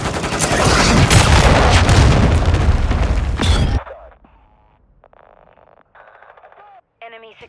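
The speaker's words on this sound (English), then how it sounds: "Hostiles launched a cruise missile." Cruise missile explosion in Call of Duty: Modern Warfare II ground war: a loud, sustained roaring blast with crackling gunfire lasts several seconds, then cuts to quieter battlefield sounds and faint radio chatter.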